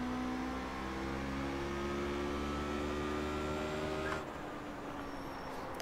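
A sim racing car engine drones at full throttle, a steady high whine with stacked harmonics that holds and climbs, then abruptly drops in pitch near the end, close and continuous with no talking.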